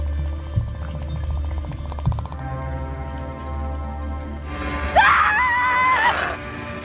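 A child's high, wavering scream rises abruptly near the end over a low droning hum and faint ticking, loud and shrill, in the horror film Don't Speak.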